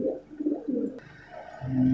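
A Malwai pigeon coos in low, rolling phrases, near and fairly loud, with a sharp click partway through and a steadier hum at the end.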